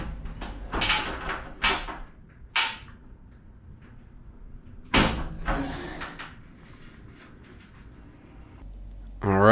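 Heavy frameless glass shower door from a Delta kit being hung in a bathroom, with a few sharp knocks and bumps of glass and metal hardware spaced apart over quiet room tone.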